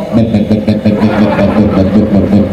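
A voice imitates the pulsing, throbbing blat of a motorcycle with a modified exhaust, a loud rhythmic vocal rumble delivered up close, probably to an audience.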